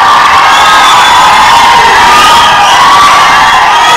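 A large crowd of fans at a film function in Telugu cinema cheers, whoops and shouts loudly and continuously, dense and close, with no clear speech over it.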